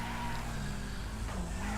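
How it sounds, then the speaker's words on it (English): Cars skid in the Wreckfest racing game, with loud tyre squeal over a steady, droning engine roar that runs continuously, with no talking. "We're knocking people out of the way. We're dodging cars."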